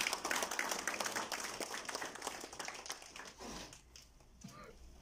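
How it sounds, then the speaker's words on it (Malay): An audience applauds at an agropreneur celebrity icon ceremony, a broad burst of clapping that is strongest at first and then thins out, with a voice speaking over it. "Satu tepukan gemuruh."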